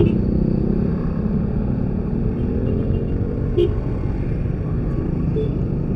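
An old motorcycle ridden on a road at night, its engine giving a steady loud low rumble throughout, close and continuous, with road and wind noise over it.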